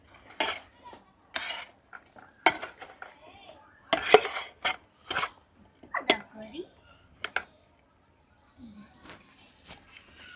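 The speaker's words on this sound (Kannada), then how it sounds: "ಎಣ್ಣೆಯನ್ನು ಕಲಿಸ್ತಾ ಇದ್ದಾರೆ" Oil being mixed into mango pickle in a vessel by hand, irregular clinks and scrapes of a utensil against the pot in separate bursts, close but soft, with a quiet voice now and then.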